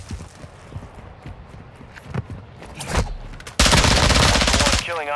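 Gunfire in Call of Duty DMZ: scattered single shots and short bursts, then a loud sustained barrage of rapid automatic fire near the end, with clattering footstep-like impacts throughout.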